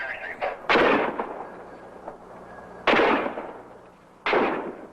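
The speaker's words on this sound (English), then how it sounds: "filming an automobile while shots were fired over their heads" Gunshots fired overhead at a range while cameras film an automobile: three loud, sharp reports with reverberant tails, spaced about two seconds apart, standing out over a low background hum.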